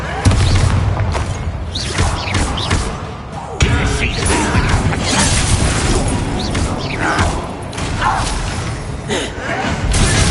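An Incendio fire spell blast in Hogwarts Legacy, heavy booming bursts and thuds amid dense combat noise, with loud impacts repeating through the clip.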